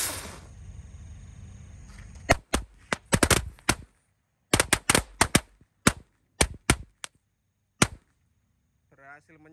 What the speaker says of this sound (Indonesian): Selanjutnya kita nyalakan mercon gangsing tor 1 pak guys.